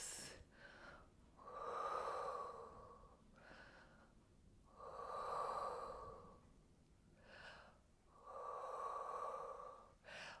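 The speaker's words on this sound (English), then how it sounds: "just take some deep breaths." Slow, deep breaths during a Pilates and yoga stretching routine: three long audible inhales or exhales close to the mic, separated by softer, quieter breaths in an even rhythm.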